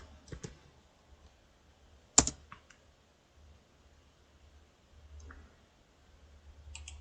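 Sparse keystrokes on a computer keyboard, a few soft clicks with one sharper tap near the middle, quiet and close against near silence.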